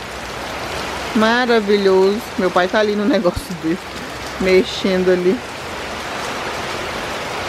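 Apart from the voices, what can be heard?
heavy rain falling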